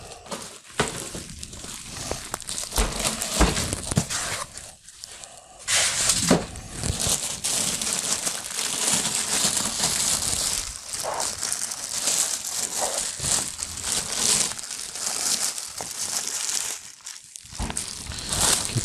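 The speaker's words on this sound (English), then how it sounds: "Get the plastic out from around it." Plastic wrapping is pulled off an Antec P100 computer case, giving continuous close crinkling and rustling with a few brief pauses and bumps.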